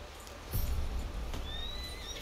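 Horse in the video game Red Dead Redemption 2 gives a whinny and shuffling hoof sounds, fairly close, over a steady low ambient background with no talk.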